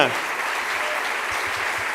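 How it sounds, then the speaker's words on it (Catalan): Gala audience at a radio awards ceremony breaking into loud, dense applause that starts abruptly and carries on steadily, with a voice faintly beneath it. "aquest fort aplaudiment pel Jaume Noia"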